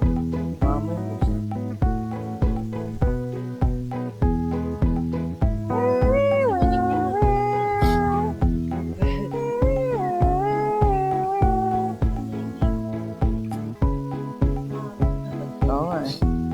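A pregnant cat meows at a beach resort, its cries rising and wavering above steady rhythmic music, with people talking nearby.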